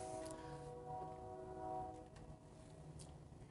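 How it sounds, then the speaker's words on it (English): Two trains cross on separate sets of railroad tracks down below, their horns sounding in a sustained tone with a distant, continuous rumble that fades toward the end. "I think it's two trains crossing. There's two sets of tracks down there."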